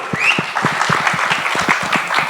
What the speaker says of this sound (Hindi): तो विद्युत जामवाल के लिए एक बार जोरदार ताली होनी चाहिए।